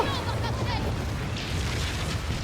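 A ship blows up in the pirate video game Skull and Bones, a deep rumbling boom with crackling debris that swells and rolls on continuously under game audio.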